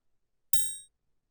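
A single short, high metallic ting from a triangle sample pitched up about 300 cents and shortened, cut off quickly after a brief ring, bright and clipped rather than sustained.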